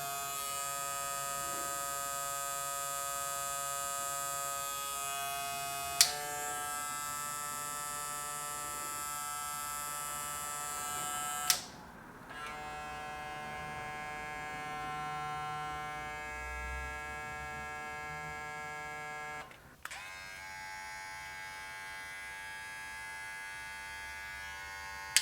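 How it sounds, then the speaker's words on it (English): MC-1 Klipaz electric hair clipper running, a steady close buzzing hum with a few clicks and shifts in pitch as it is handled, continuous for about twenty-five seconds without talk. "So we'll do the sound check on this clipper."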